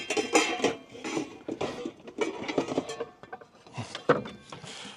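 A metal scrubber scrapes and rubs against a frying pan with hot water in quick, irregular strokes, close by, with occasional clinks between bursts of scrubbing.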